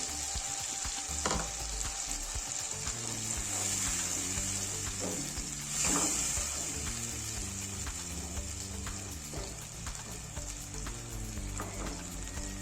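Blended onion, tomato and cashew paste with a splash of water sizzling loudly in a pan, a continuous close hiss with brief bursts and faint stirring scrapes.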